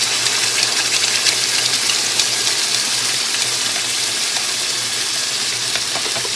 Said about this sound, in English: I'm just going to kind of pour it on top there.